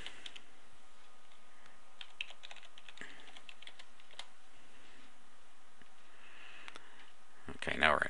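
A computer keyboard tapped while an admin username and password are entered to log into a forum, giving faint, irregular clicks under quiet room tone, with a louder scrape at the end.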